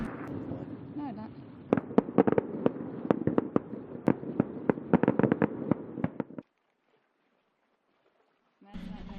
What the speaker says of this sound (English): we found the resort on the neighboring island was having a fireworks display